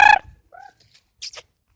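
A small bird calls close by: one sharp, harmonic squawk, then a couple of brief, quieter chirps and a short rustle before silence.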